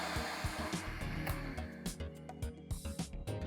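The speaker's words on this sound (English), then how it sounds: "Start whisking on medium speed and then move to high." An electric beater whisks chilled whipping cream for a no-bake mango pudding, a steady loud whirring motor with rhythmic clattering as the beaters knock against the bowl.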